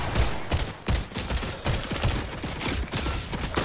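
Rapid DMR rifle fire from a Fortnite match, a string of loud, sharp shots in quick succession with busy game noise between them and no talk.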